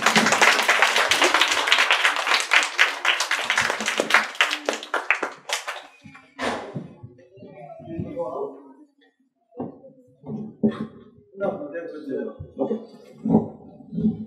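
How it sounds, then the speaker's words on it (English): Audience at a guest lecture on rare diseases awareness applauds two children, a burst of dense clapping that fades out after about six seconds, followed by scattered sparse claps and talking. "Round of applause for Adam and Tom."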